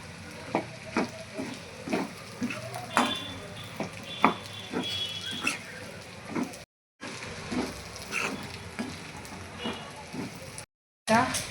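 Vegetables are stirred and mixed in a cooking pan for a green turmeric and peas dish, giving repeated close scraping and clinking strokes over a steady sizzle, with a couple of brief dropouts.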